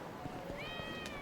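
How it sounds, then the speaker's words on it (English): A single short cat meow rises briefly over a busy game soundscape in Lost Judgment. It sits at moderate volume against continuous background ambience. "I heard a cat."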